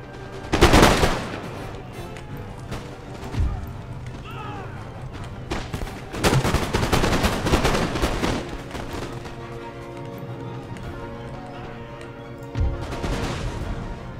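Musket volleys from Hessian line infantry in Empire Total War sound as a few loud crackling bursts spaced apart, with a sustained rattle of fire in the middle, mixed with battle ambience and some speech.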